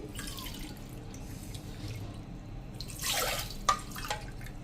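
Water splashes and trickles into a pot of soaked peas being readied for boiling, with a short burst of pouring and a few drips nearby, no talking.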